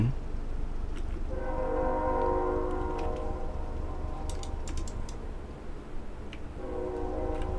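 A train rolls past in American Truck Simulator, a steady rumble of rail cars with a sustained multi-tone horn blowing, plus a few sharp clicks layered over the passing noise.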